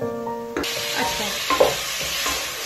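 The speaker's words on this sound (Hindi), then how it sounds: "तेज चूल्हे पे आप अच्छी तरह इस चिकन को जी फ्राई कर लें।" Chicken frying hard in a karahi over a high flame: after a few musical notes, a loud, close, steady sizzle takes over, with occasional stirring knocks and scrapes and no talking.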